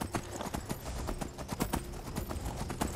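Horse hooves clip-clop at a gallop in the Skyrim VR video game, a quick, uneven patter of soft thuds that is fairly quiet.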